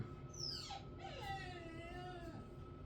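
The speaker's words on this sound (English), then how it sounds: "dog's crying, so she probably has to go potty." A dog whines and cries in drawn-out, wavering high-pitched moans, fairly close and steady over a low background hum, with no talking.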